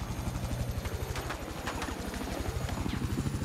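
A helicopter's rotor thumps in a rapid, steady pulse throughout, loud and close, with faint music beneath, in the video game Battlefield 4.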